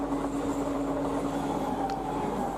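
An Eastern Railway high-speed EMU train runs on the Howrah to Katwa line, a steady, continuous rumble with a low electric hum and a faint brief whine.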